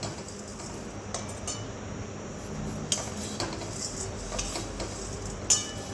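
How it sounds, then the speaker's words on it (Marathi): Dry vermicelli roasted without oil in a pan and stirred, a steady soft scraping hiss with occasional metallic clinks of the spoon against the pan, alone with no talk. "मी फक्त कोरड्याच भाजते आहे"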